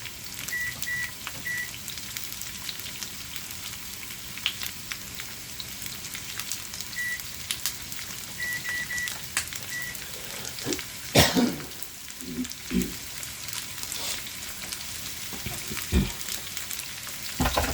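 Onions and peppers cooking in a pan for chicken jalfrezi, a steady quiet sizzle and crackle throughout, with a few scrapes and knocks from a wooden spoon stirring partway through.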